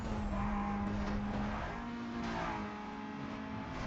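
Car handbrake skid in Need for Speed Most Wanted, a game car drifting through a big turn with steady engine roar and a sustained tire hiss that fades a little toward the end, with no talk.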